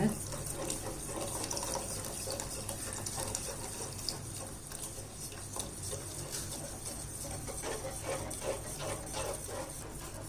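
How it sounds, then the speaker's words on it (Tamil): Remaining milk poured into a pan for mango custard makes a steady, continuous close splashing pour lasting throughout, with faint background noise. "மீதி இந்த பால் அதில் சேர்த்துட்றேன்."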